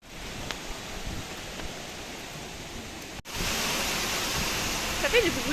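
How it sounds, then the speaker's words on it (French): Loud, steady rushing of a river or falls beside basalt column formations, a broad continuous roar close by that swells louder partway through, with no voices. "L'eau ça fait énormément de bruit quand même"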